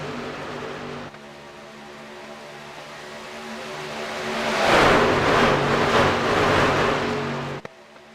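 Trucks in a Daytona rookie truck series race in a racing video game roar down the back stretch, their engine drone swelling into a loud rushing pass before fading, with no voices.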